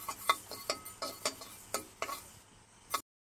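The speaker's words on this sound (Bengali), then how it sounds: "এই পাঁচফোড়ন এখন আম্মু আছে টালতিছে" Panch phoron spices dry-roasted in a pan for mango pickle, stirred with a utensil in about eight sharp scraping strokes spaced roughly every third of a second, close and fairly quiet.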